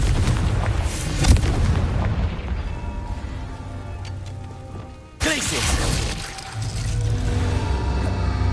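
Confringo blasting spell explosions in Hogwarts Legacy, loud booming bursts at close range, one sharp blast early then a sudden cut and a fresh burst of rumble, set against a continuous game soundtrack.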